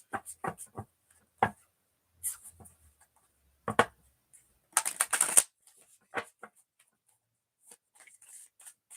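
Cards are riffled and handled on a table in short, quiet bursts, including one denser shuffling rush midway; no talking.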